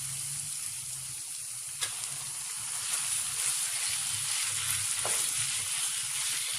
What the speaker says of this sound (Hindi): अब मैंने कीमे को फ्राई करना है